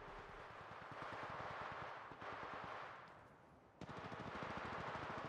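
Automatic weapon fire in the mobile shooter Apex Legends Mobile, a quiet steady stream of rapid shots rattling continuously with a brief pause before resuming.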